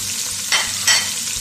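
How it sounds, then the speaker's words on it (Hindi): Medium-sized chopped onions fry in oil for mutton yakhni pulao, a close, bright sizzle broken by two quick stirring scrapes. "हम प्याज को फ्राई कर लेते हैं"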